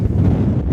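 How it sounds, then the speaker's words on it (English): Strong wind gusts buffet the microphone on a high-altitude lake shore, a loud, continuous low rumble with no voices. "It's getting a little windy"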